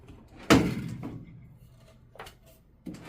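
A drawer on a mobile toner cabinet slides open with a loud thump at the start, then fainter rattling knocks follow as it settles, with two softer clunks later.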